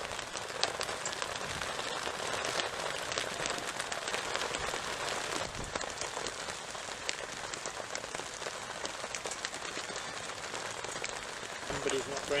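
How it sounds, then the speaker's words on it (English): Rain falling outside a fishing bivvy on a December day, a dense hiss of drops pattering on the surface, steady and close with occasional heavier taps, and no one speaking. "Raining outside"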